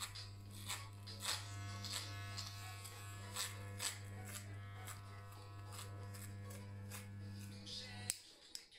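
An electric hair clipper fitted with a number 6 guard cutting a man's hair, a steady close buzzing hum with short rustling strokes through the hair, cutting off abruptly near the end.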